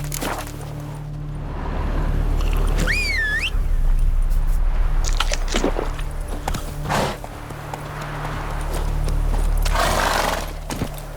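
A horse in The Witcher 3 whinnies once in a sharp rising cry, with hooves clopping and thudding around it as it sets off. No one speaks.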